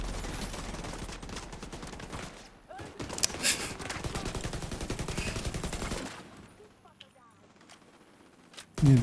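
Rapid bursts of automatic gunfire in a video game crackle repeatedly for several seconds, loud and dense, then fade into quieter game sounds with a sharp burst at the end; a voice talks intermittently over it.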